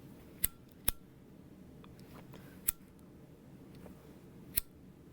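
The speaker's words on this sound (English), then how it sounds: "Trim all my other little starting threads." Scissors trim loose starting threads on a quilted trick-or-treat bag, four sharp metallic snips spaced unevenly against a quiet room, close and crisp.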